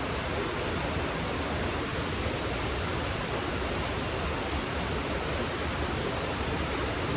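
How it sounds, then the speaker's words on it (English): A river rushing steadily on a morning outdoors, a dense, constant broadband wash of flowing water that stays close and even for the whole stretch, with no voices over it. "River's running pretty decent this morning."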